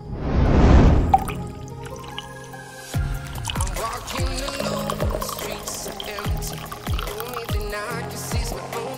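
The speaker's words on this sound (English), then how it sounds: "how to create a fantastic effect of pouring syrup from a jug into a glass" Thick syrup pours from a jug into a glass, opening with a loud rushing pour that gives way to a run of close, distinct drips and trickles over a soft liquid background.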